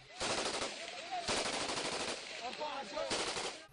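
Gunfire breaks out during an armed raid on a house in Tikrit, with rapid machine-gun bursts in several rattling volleys, loud and close, with shouting voices mixed in.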